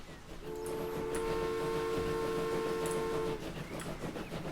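Train in a transport video game, a sustained steady horn blast about three seconds long over the rumble of rolling rail cars, loud and close.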